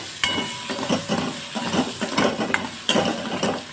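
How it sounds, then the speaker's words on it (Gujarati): Onions stir-fried in hot oil with whole spices for a dhaba-style malai paneer masala, a steady sizzle under repeated scraping and clinking stirs of a spoon against the pan, close and fairly loud. "અડધા કપ જેટલી ડુંગળી હવે બધું આપણે હલાવી લેવાનું છે"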